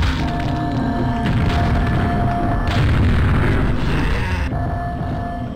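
Cluster grenade launcher blasts in a video game, rolling booms from a grenade splitting into several bomblets, loud and continuous with overlapping detonations close by.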